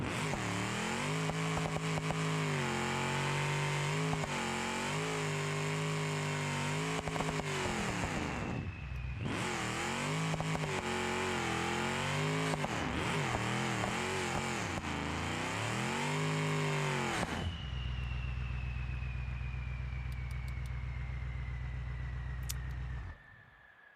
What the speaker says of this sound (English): All right, well, burnouts.